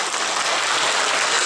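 Dense audience applause at a fashion show in a gallery, greeting a designer after her collection presentation; steady, loud clapping from many hands fills the whole moment without pause.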